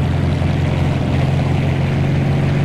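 A car engine in the video game Mafia II hums in a steady, loud, low burble that holds evenly throughout with no voices.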